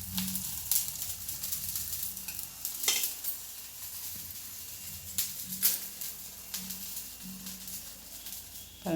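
Gram flour balls fry in hot oil for homemade laddu. A soft, continuous sizzle is broken by scraping stirs and light clinks from the pan.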